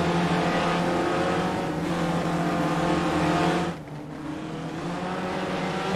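Race cars in the iSpec Racer Ford Challenge sim race at Park-GP, a video game, produce a continuous, loud, layered engine drone that dips briefly partway through and then carries on.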